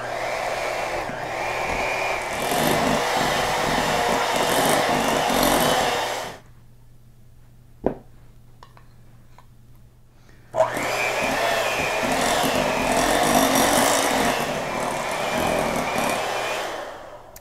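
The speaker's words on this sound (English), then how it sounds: "then blend and mix this peanut butter and butter together, and then add the second cup." An electric mixer blending peanut butter and butter: a loud, steady motor whir that runs for several seconds, cuts out into near silence broken by a single clack, then starts up again at full strength.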